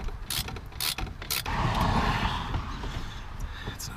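A ratcheting wrench clicks in quick uneven bursts while tightening the air filter on a CAT-powered Ford F350 truck, close and fairly quiet, with a rougher scraping stretch in the middle.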